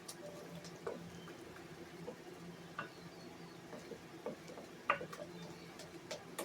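A spoon stirs a flour slurry for sourdough sandwich bread in a bowl, with soft scraping and faint clicks against the bowl in an irregular rhythm, quiet and close, over a low background hum.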